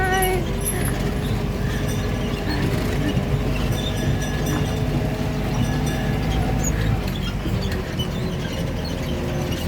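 Tourist train in a pine forest park rolling steadily along its rails, a continuous loud rumble and clatter that runs the whole time with faint voices in the background.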